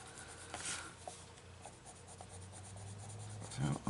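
Coloured pencils scratch across paper in soft, quiet strokes while colouring in Hanna Karlzon's Seasons adult colouring book, a close, continuous rubbing with a few light taps and no talk.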